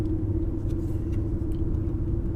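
A 2001 BMW E46 330i Touring with a five-speed manual gives a low, steady engine rumble from inside the car as it pulls out of a corner, fairly quiet and continuous with no talking.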